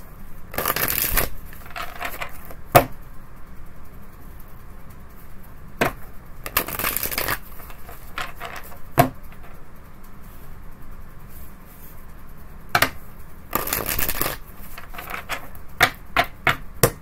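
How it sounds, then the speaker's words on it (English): Tarot cards riffle and snap in several quick bursts, separated by softer shuffling and tapping, close up with no talking. "Three shuffles for Aries."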